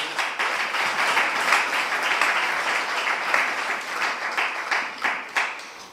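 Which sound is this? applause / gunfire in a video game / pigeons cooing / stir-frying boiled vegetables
applause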